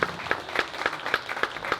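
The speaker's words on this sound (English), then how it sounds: "Give a big round of applause." Audience applause after introductions at an event in East Tennessee, heard as a thin, fairly quiet run of clapping with a few distinct, rhythmic claps standing out above a soft patter.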